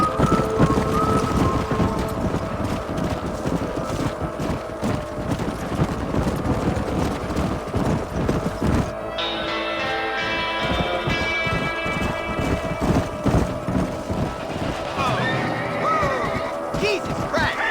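Herd of horses galloping in Red Dead Redemption, a dense rapid drumming of hooves that stays loud and steady throughout, with a voice speaking over part of it.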